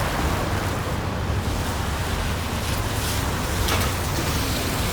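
Sea waves along the shore of a seaside city in Greece, a continuous loud wash of surf mixed with heavy wind buffeting the microphone, no voices.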